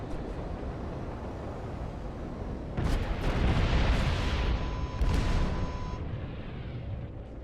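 Missiles exploding in a Star Citizen space fight, a rumbling swell of blasts over a steady low drone, with a second burst a couple of seconds later and a faint tone ringing through it.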